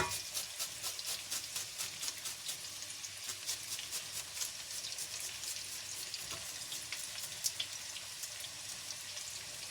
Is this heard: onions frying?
yes